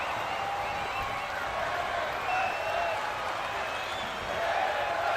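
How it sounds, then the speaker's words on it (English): Arena crowd in the video game WWE 2K24 chanting during a women's wrestling match, a steady roaring wash of many voices that swells slightly in places and holds at a constant level throughout. "The crowd chanting women's wrestling."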